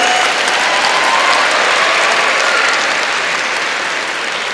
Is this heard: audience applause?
yes